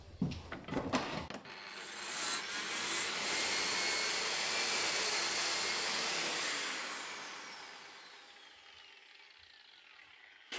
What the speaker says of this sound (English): I got this magic brush that costs 75 euros that you put on a grinder, and I will try to clean the screws and try to unscrew this window.